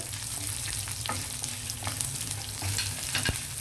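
Lentils, cumin, mustard seeds and dried chillies fry in hot oil, giving a steady close sizzle with occasional light crackles and stirring scrapes, no talking.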